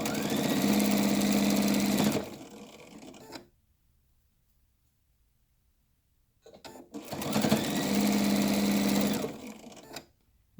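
A sewing machine stitches down the center of tape on a chenille hot pad bowl caddy in two bursts of steady close whirring, with a pause of near silence between them and no talking.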